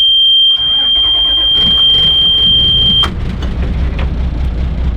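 An engine cranks and catches, settling into a steady low rumble, with a high electronic whine running through the first few seconds.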